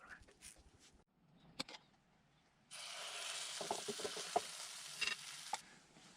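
A gluten-free Birch Benders pancake cooks in a cast iron pan: a few soft clicks and taps, then a bright sizzle bursts up for about three seconds under small scraping knocks before fading.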